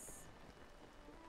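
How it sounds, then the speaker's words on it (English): Heavy rain falls in the video game Zelda: Tears of the Kingdom, a dense, steady hiss of downpour heard alone for a brief moment. "Dang, it is raining hard."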